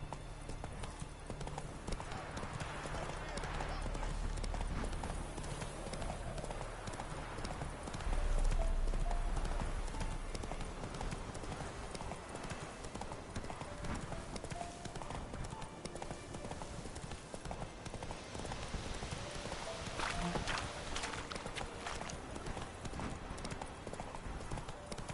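Roach, a horse in The Witcher 3, gallops continuously with fast, rhythmic hoofbeats over a background of ambient game sound, staying at an even middle distance throughout.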